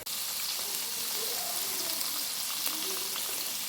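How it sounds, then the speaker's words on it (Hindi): Mutton trotters (paya) frying in a pot, giving a steady, even sizzle and crackle that holds close and fairly loud for the whole stretch, with no voices. "यहाँ पर मैं तकरीबन 10 मिनट पाए की भुनाई करूँगी"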